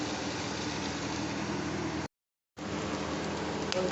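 Mashed cabbage fries in a pan with a steady, even sizzle like light rain, close and moderately quiet, cut by a brief silent gap before resuming.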